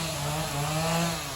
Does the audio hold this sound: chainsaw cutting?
yes